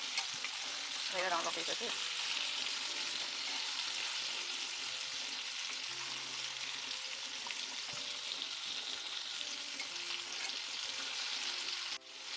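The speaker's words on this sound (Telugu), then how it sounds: "అందుకనే నేను ఇలా వేయించేసి కొంచెం తీస్తాను." Fish pieces frying in oil in a pan for Telugu-style fish curry, a loud steady sizzle throughout with brief scraping and stirring, and a few words spoken over it.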